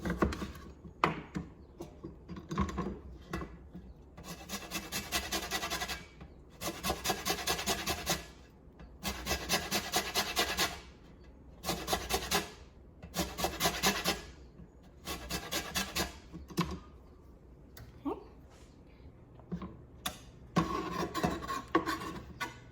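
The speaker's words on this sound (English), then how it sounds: "I am also gonna be putting in some lime zest and a bit of the juice." Lime zest is grated on a rasp zester in repeated rhythmic scraping strokes, close and crisp, coming in bursts with short pauses between them.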